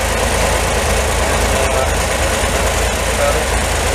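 A 1963 Chevrolet Corvair Monza engine idling with air being drawn into its carburetor intake, a loud, steady close-up hiss and mechanical rumble with a voice talking over it.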